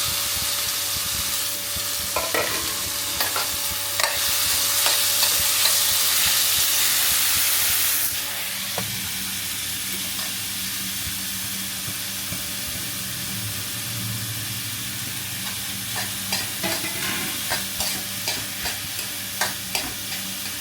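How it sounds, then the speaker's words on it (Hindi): Chopped onions fry in hot oil in a pan, starting with a loud, hissing sizzle that drops to a softer steady crackle, with repeated stirring clicks and scrapes. "तेल थोड़ा सा गर्म हो चुका है और इसके अंदर डालने वाली मैं अपने प्याज चॉप किए हुए थे"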